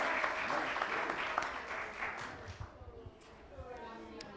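An audience at a talent-show finale claps for shy young boys, with scattered, lively applause that starts fairly strong and thins out. Talk and crowd noise mix in as the clapping fades.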